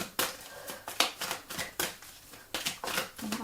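Cards riffle and snap together in quick bursts, about eight shuffles in a steady rhythm, close by and fairly quiet, with no talking.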